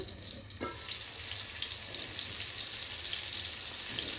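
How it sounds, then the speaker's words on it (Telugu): Bitter gourd slices fry in a pan, giving a continuous close sizzling hiss with a brief clatter near the start and no talking. "వన్ సైడ్ అయితే ఫ్రై అయిపోయింది ఇప్పుడు ఉల్టా వేసేసుకుందాం"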